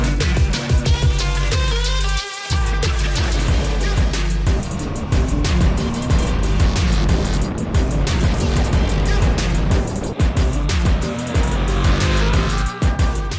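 A KTM 1290 Super Duke GT motorcycle climbs a mountain pass, its loud engine droning continuously with rising and falling revs, shift gaps and a brief dip in the sound, heard up close throughout.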